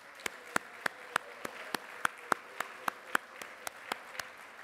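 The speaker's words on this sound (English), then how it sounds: "So let's give her a round of applause." Sparse clapping comes from a conference audience at an annual meeting's scholarship awards, about fifteen separate sharp claps spaced evenly and fairly quiet against a faint room hum, sounding like one or a few people rather than a full crowd.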